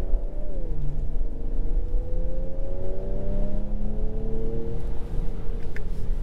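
A 2019 Ford Edge ST accelerating hard, its engine note climbing steadily in pitch as it pulls, loud and close from the cabin with a constant low road rumble beneath.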